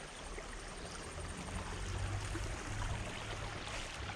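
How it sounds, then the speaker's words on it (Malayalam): Small stream fed by a waterfall at Kollam Kolli near Choolattipara, Malappuram, running low on water: a steady, soft broadband rush with a faint low rumble, continuous and moderately distant, with no voices. "ഇതാണ് തോട്"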